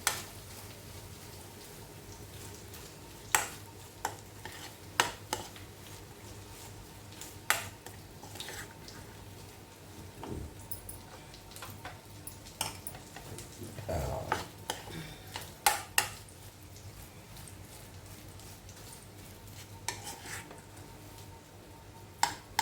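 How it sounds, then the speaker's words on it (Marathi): Intermittent scraping and soft clinks of a spoon stirring coconut rice with sugar in a pan, quiet and close, irregular strokes with occasional louder knocks against the pan. "नंतर हा मिक्स करायचा. चांगल्या प्रकारे एकजीव करून घ्यायचा."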